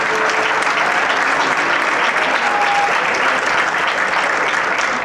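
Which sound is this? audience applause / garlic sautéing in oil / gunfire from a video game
audience applause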